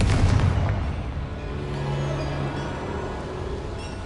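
A Confringo spell blasts a boiler in Hogwarts Legacy: a heavy booming explosion at the outset, then a rumbling decay with low hum carrying on beneath, loud and close.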